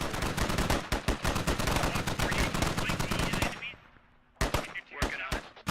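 Sustained machine gun fire in the military shooter game Squad, fast rhythmic bursts of loud close shots running continuously, then a brief lull before a few more sharp bursts resume.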